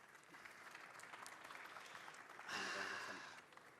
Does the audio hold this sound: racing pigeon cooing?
no